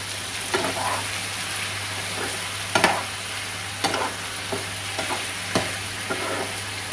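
Lemon garlic chicken sizzles steadily in a pan after cornflour water goes in, a continuous close frying hiss broken by a few sharper spits and stirring scrapes, with no talking.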